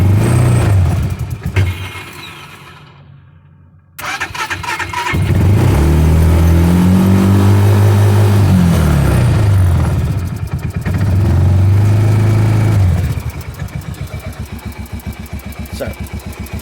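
A UTV engine catches after a short silence and then revs hard, its pitch rising and falling in several loud, close sweeps before it settles to a steady idle.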